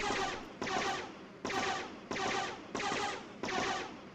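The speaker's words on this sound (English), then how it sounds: "that turret's firing at the animal" Automated turret in the colony game RimWorld firing at an animal, six evenly spaced bursts of rapid gunfire, each sharp at the start and fading, fairly close, with no talk.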